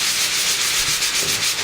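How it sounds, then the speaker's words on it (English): Sandpaper rubs back and forth across a wooden stump plinth meant for a large live steam engine, a close, steady rasping scrape with a gentle rhythmic pulse. "So I'm just going to do a little sanding"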